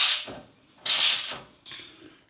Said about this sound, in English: We grabbed me a 9/16 ratchet wrench.